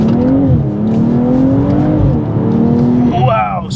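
A tuned 450 bhp BMW M240i xDrive with B58 engine pulling hard, loud droning exhaust note rising in pitch under acceleration, with excited voices talking over it inside the car.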